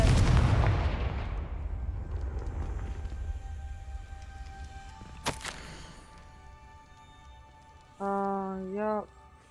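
A Confringo fire spell goes off in Hogwarts Legacy, a loud booming blast at the start that rolls and fades, then a sharp crack partway through, over game ambience and background music.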